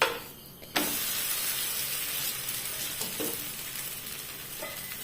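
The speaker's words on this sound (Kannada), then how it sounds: "ಈಗ ಮೇಲಿಂದ ಸ್ವಲ್ಪ ಎಣ್ಣೆ ಹಾಕುವ ಎಣ್ಣೆ ಹಾಕಿ ಎರಡು ಬದಿ ಕೂಡ ಕಾಯಿಸ್ಕೊಂಡ್ರೆ ಆಯ್ತು ನೋಡಿ" Banana flower roti sizzles steadily in oil on a hot pan, a loud continuous frying hiss that swells suddenly after a quieter start, with a few soft scraping touches.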